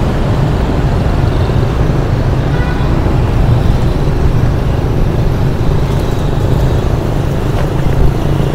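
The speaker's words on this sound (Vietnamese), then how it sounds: "vào kẹt xe luôn ngã tư thành thái nguyễn tri phương đó quý vị" Dense traffic jams a Ho Chi Minh City intersection at Thanh Thai and Nguyen Tri Phuong, producing a loud continuous wash of engines and road noise from many vehicles close by, with no one speaking.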